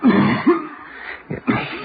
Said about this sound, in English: Only stop that coughing.